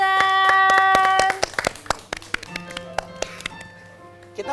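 An audience on a morning talk show claps hands in irregular, scattered bursts after a ringing musical tone fades, with the claps close and distinct against a quiet background.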